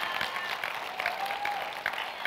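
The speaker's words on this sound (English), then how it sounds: "Give the Lord a hand clap." A church congregation claps hands together, a steady mid-level patter of many hands with faint voices and a sustained tone running underneath.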